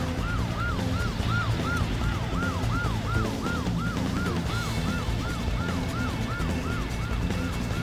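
Police car siren in the video game Just Cause 1, a fast repeating wail cycling steadily over engine and road noise throughout.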